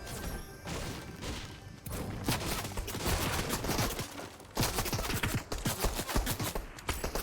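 Rapid bursts of automatic gunfire from a Fortnite Zero Build match, loud and dense, coming in several clustered volleys with brief gaps between them.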